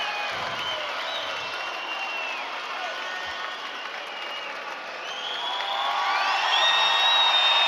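A judo arena crowd at the Tbilisi Grand Slam roars with sustained cheering, applause and whoops, a dense wall of noise that swells louder toward the end.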